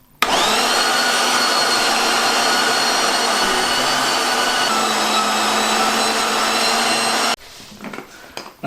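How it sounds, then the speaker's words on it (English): A very loud electric meat mincer grinding beef for smash burgers, a steady high droning whine that holds for about seven seconds before cutting off sharply, leaving faint clatter. "into bits that will go through the mincer and mince it to bits"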